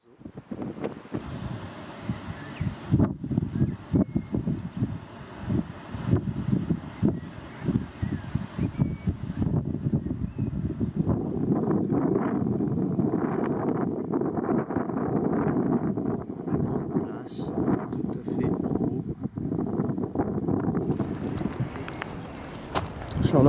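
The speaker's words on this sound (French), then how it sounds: "Il y a aussi beaucoup de vent." Strong gusts buffet the microphone on a windy hilltop park in Arezzo beside the cathedral overlooking the valley, a continuous rushing roar that swells and eases, with faint footsteps and occasional distant sounds beneath.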